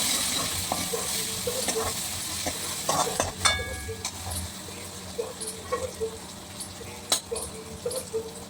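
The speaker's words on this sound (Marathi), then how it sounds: "एक टोमॅटो चिरून घेतलेला आहे तो टाकला आहे आता छान परतवून घेऊयात" Chopped tomato sautés with mustard seeds, curry leaves, turmeric and chilli powder in a pan, a steady close sizzle punctuated by repeated clinks and scrapes of a spoon stirring against metal.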